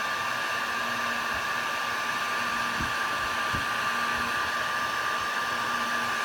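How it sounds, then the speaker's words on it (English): A heat gun blows steadily on a painted surface to bubble the paint for a chippy finish. Its loud, constant hiss and whine is close and unbroken, with a couple of faint knocks and no speech. "And I'll set the heat gun down for a second and take the spatula and just scrape along here."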